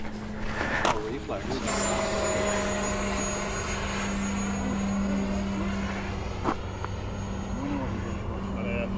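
An FMS Rafale 64mm electric ducted fan model jet passes by at an RC flying field, a steady loud rushing whine lasting throughout, with people speaking faintly underneath.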